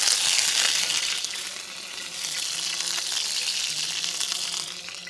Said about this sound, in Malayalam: എണ്ണ ചൂടായിട്ടുണ്ട്. അതിൽ കുറച്ച് കറിവേപ്പില മേളിൽ ഇട്ട് കൊടുക്കുക.